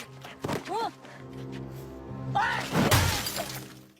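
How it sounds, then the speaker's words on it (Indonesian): Car window glass shatters under a single punch in a gangster fight scene, a loud crash and spray of breaking glass late in the moment, preceded by voices and a dramatic swelling score. "memecahkan kaca mobilnya dengan satu pukulan"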